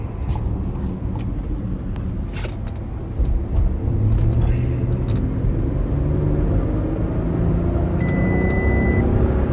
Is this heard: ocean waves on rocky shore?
no